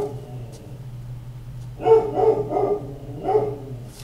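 A dog barks a few times close by, in short, uneven yips that start partway through over a steady low indoor hum, with no talking.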